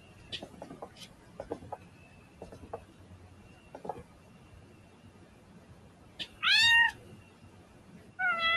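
A stray kitten outside meows twice near the end, clear rising-and-falling cries, after a stretch of quiet room noise with faint scattered taps.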